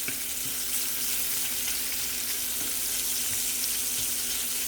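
Bacon and breakfast potatoes fry in a pan with a dense, steady sizzle, close and fairly loud, and a few faint clicks and bumps beneath the continuous hiss.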